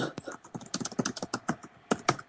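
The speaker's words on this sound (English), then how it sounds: "I know you guys can hear my typing." Rapid clicking of computer keyboard keys, close and clear, in an uneven rhythm of quick taps with brief pauses between bursts.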